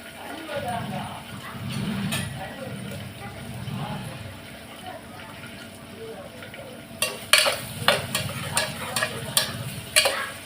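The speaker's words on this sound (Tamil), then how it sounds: "வெங்காயம் வதக்கட்டும்" Onions sautéing in a pan with fennel seeds and curry leaves make a low frying sizzle under a person talking, followed by a run of sharp spoon-against-pan stirring knocks in a loose rhythm.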